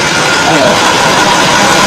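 A Volvo 9600 bus engine runs with a steady, loud hum while someone talks over it.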